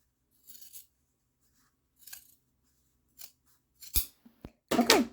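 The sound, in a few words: scissors cutting fabric up the center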